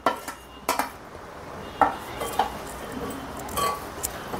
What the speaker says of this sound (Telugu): కట్ చేసి పెట్టుకున్న దోసకాయ ముక్కల్ని ఆ కలుపుకున్న ఆవపిండి దాంట్లో వేసుకుందాం